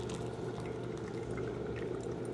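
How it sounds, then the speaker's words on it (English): Hot water from a kettle is poured in a steady spiral over ground coffee in a Chemex, a continuous close hissing trickle with no break and no voices. "Use the stream of water to stir as you're pouring."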